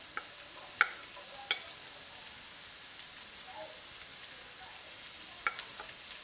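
Onions and peppers fry in a pan with a faint, even sizzle, punctuated by a few sharp utensil taps.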